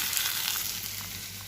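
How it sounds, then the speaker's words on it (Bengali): Onions sizzling and frying steadily in a pan while cooking onion posto, a close, even crackle with no voices. "আমার পেঁয়াজ পোস্তর পেঁয়াজটা তো অলমোস্ট ভাজা হয়ে গেছে"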